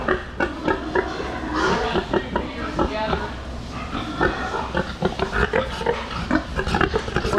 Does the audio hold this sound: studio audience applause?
no